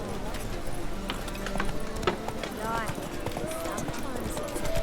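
Hooves of Roach, the horse in the video game The Witcher 3: Wild Hunt, clop along in a quick rhythm beneath someone talking, with game ambience and brief chirping sounds mixed in.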